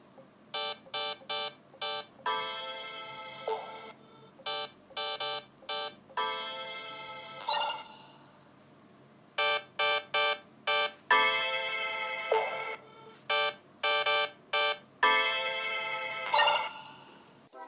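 Electronic Nothing Phone 2a ringtones play in turn, each a run of bright, rhythmic beeps and chimes with short gaps between them, clear and close.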